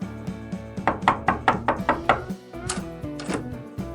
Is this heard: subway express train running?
no